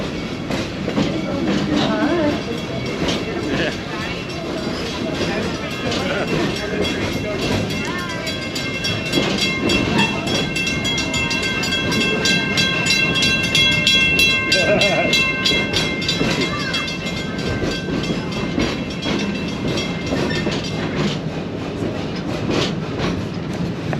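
A passenger train rolls steadily through an amusement park with a continuous rumble and rhythmic clickety-clack of the wheels, and voices talk over it throughout.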